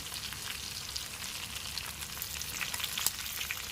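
Mutton pieces sizzle steadily in a pan while browning for a roast curry, a close, even frying hiss with small pops and no talk.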